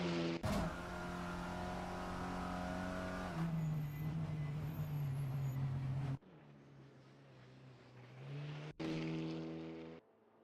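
Race cars warming up at the East London Grand Prix circuit, loud sustained engine drones with shifting pitch, one fading and others revving nearby, with brief abrupt cuts between passages.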